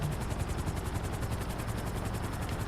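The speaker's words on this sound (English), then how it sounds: "Let me land my helicopter real quick." A helicopter in GTA Online flies and settles in to land, its rotor chop a fast steady pulse over a broad engine whine, continuous and fairly loud with no talk.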